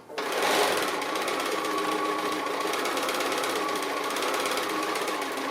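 Home sewing machine running steadily through a seam on a small fabric gift bag, starting with a lock stitch, with a continuous close rapid mechanical whir from start to finish and no talk.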